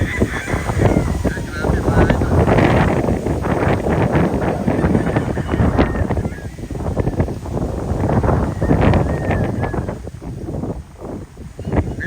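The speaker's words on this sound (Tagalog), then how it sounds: "Grabe hangin." Strong typhoon wind buffets the microphone in loud, continuous gusts at a storm-damaged poultry farm, with voices talking over it throughout.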